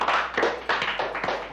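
A small audience claps at a sports athlete talk event, a short run of close, sharp hand claps in an uneven rhythm, without speech.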